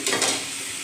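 Ground cumin, coriander and turmeric fry in a hot pan as a little water is poured in, giving a short loud sizzling burst up front that settles into a softer, steady hiss, close by with no voices.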